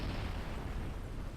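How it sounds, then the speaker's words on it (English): A jettisoned rocket engine explodes in Kerbal Space Program, a dense, rumbling blast of broadband noise that stays loud and sustained for the whole moment with no voices over it. "Nice little explosion."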